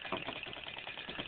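A small flame-heated Stirling engine with a flywheel runs steadily, its soft rhythmic chuffing and mechanical whir close and alone.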